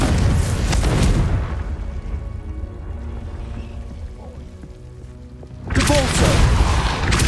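A Confringo fire-blast spell explodes in the Hogwarts Legacy game on PS5, with a loud booming burst at the start, a quieter rumbling stretch, then a second loud blast toward the end.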